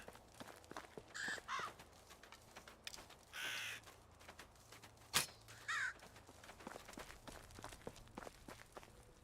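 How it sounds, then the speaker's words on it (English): Crow caws in the medieval life-sim game Medieval Dynasty, a few separate harsh calls spaced across the scene over soft footsteps and ambient game background, moderately close and without talk. "That is a crow, not a pigeon."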